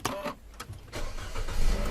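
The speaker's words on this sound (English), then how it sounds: "So we have to start the car to see if I didn't screw up." A car engine cranking and catching right after a spark plug change, then settling into a steady rumble that builds louder toward the end.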